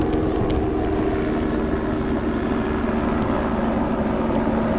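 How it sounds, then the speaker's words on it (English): Steady, loud rotor and engine drone of a helicopter overhead, continuous with no talking. "This is my private helicopter."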